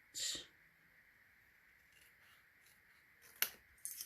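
Scissors trim paper while making a sticky note cube holder, with one crisp snip at the start and two more short cuts near the end, separated by a quiet pause.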